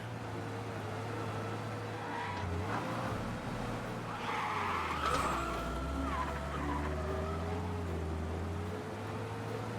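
A car driven through Mafia: Definitive Edition, its engine droning steadily for the whole stretch, with tires skidding and squealing midway and no talk over it.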